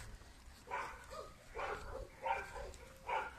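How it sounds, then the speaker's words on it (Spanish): A German shepherd puppy gives four short, faint whimpering whines at an even pace, each a thin rising cry, close by in a quiet room. "un cachorro de pastor alemán"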